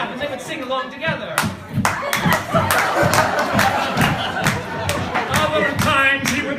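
Hands clap in a steady rhythm along with a sung tune, the sharp claps cutting through voices singing and talking close by.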